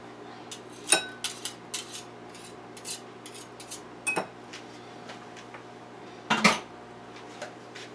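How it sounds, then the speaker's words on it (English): Whisk working Caesar dressing ingredients with Parmesan in a bowl, giving faint, irregular metallic clinks and taps against the bowl, with a few sharper knocks. "You're going to need a whisk."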